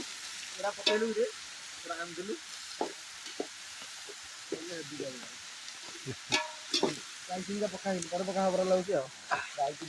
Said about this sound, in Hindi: प्याज और मिर्ची तल रहे हैं।